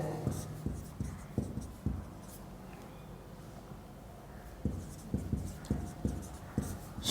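Pen writing out a physics numerical on refractive index, soft rhythmic scratches and taps in two clusters separated by a quiet stretch, close and low in level.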